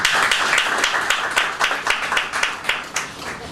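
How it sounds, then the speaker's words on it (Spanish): A church congregation breaks into loud, sustained applause, dense overlapping claps with rhythmic surges that ease slightly toward the end, no speech over it. "Démosle un fuerte aplauso, Señor, a ellos."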